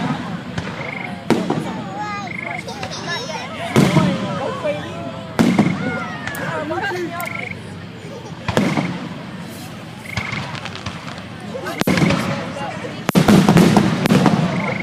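Fireworks burst close by at night over a field down a hill, sharp booms and crackles repeating every couple of seconds, with people talking throughout.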